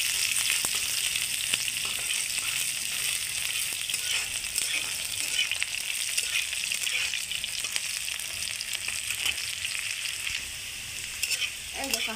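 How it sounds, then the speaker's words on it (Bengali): Spice paste frying and browning in a pan, a continuous bright hiss and sizzle heard close up with occasional scraping stirs; no talk. "এর মধ্যে কিছু আমার পেস্টটাকে দিয়ে দিচ্ছি। পেস্টটাকে একটুখানি ব্রাউন করবো"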